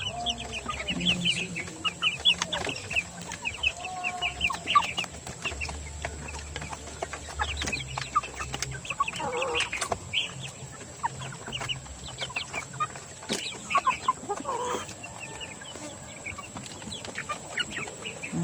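Chinese chickens cluck and chatter close by in a backyard garden at feeding time, with scattered bird calls, shuffling and occasional distant crowing throughout, no talking.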